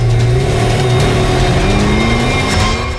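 A big red jeep-like vehicle drives off with its engine revving loudly, a steady, close, mid-pitched roar that eases slightly toward the end.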